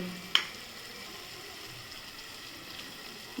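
Onions and masala powders, including chicken masala, chilli, turmeric and coriander powder, sautéing in a pan, a soft steady sizzle with a single sharp utensil tap near the start.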